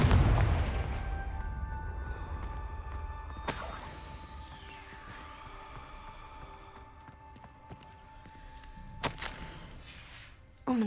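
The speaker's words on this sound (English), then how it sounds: "Confringo!" Confringo explosive spell in Hogwarts Legacy: a sharp burst opens the clip, then two more sudden whooshing blasts stand out over a low game ambience, with a final hit at the end.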